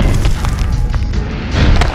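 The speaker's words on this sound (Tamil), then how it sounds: "மறுபடியும் ராக்கெட் வச்சரா?" A loud, booming rocket explosion in the video game Hulk 2003, a dense low rumble with crashing debris lasting about two seconds, with no talking over it.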